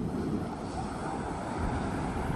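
Ocean surf washes onto the beach at Fort Clinch State Park, a broad, steady hiss of breaking waves mixed with wind buffeting the microphone, fairly faint and continuous.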